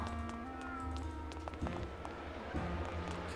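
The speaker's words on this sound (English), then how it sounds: "Cat." A cat meows in the video game Grim Fandango Remastered. Short feline cries sound over tonal game music, with a couple of soft thuds.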